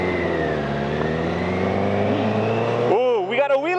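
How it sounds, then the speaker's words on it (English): A motorcycle engine climbs in pitch as it accelerates hard into a wheelie, a rising whine over a steady drone near the end, with other bikes idling nearby in a group ride in Japan. "Ooh, we got a wheelie!"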